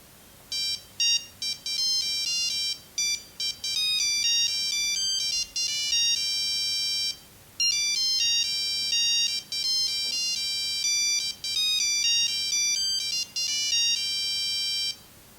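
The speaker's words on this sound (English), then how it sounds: "I still have one bonus ringtone from Axel Foley, the movie." Nokia 6310 mobile phone playing its bonus Axel Foley theme ringtone, a bright electronic melody of quick repeated beeping notes in bursts with short gaps, clear and alone.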